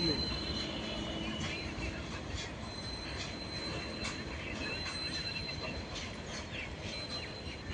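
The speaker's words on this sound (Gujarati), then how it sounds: "અહીંયાથી વિરમગામ તરફ જતી ટ્રેનો આવજા કરે છે" A train passing at Sabarmati junction on the line toward Viramgam, with a steady rumble of wagons, squealing wheels and faint rhythmic clatter, heard at moderate distance.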